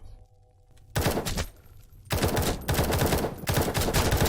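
Bursts of rapid automatic gunfire in the Roblox game War Tycoon, loud and close, coming in several long volleys separated by brief pauses.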